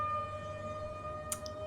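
A city warning siren in a video game holds a steady, even drone at moderate volume, with a brief click near the end and no talking.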